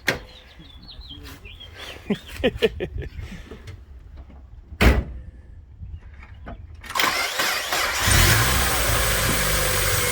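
A 1999 Mazda Miata MX-5 engine, long abandoned, cranks and catches after some clicks and a thump, then idles and revs up loudly, close to the microphone.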